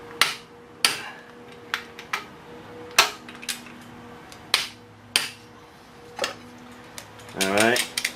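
Torque wrench clicks while a jackshaft on a tub grinder is refurbished: about ten sharp, close metallic clicks at uneven intervals, ending in a brief rising mechanical squeal.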